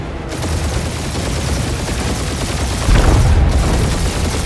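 Gunfire in the video game Marvel's Guardians of the Galaxy rattles as a loud, dense, continuous volley with a heavier boom near the three-second mark.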